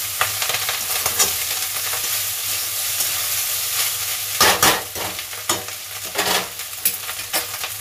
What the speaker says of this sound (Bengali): সামান্য দিয়ে নাড়িয়ে নিলাম